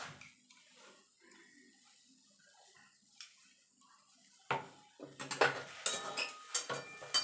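A spoon stirs fried spice mix, salt and black salt through egg chop filling in a pan, giving quiet scraping at first and then louder, busier clinks and scrapes of metal on the pan toward the end.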